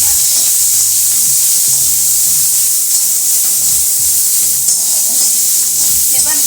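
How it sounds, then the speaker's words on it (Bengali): Chopped onions frying in a hot pan, giving a loud, continuous sizzle and hiss close by, with faint stirring and clinks underneath. "এবার দিচ্ছি পেঁয়াজ কুচি।"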